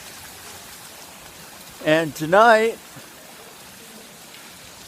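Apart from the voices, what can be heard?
rain falling during a walk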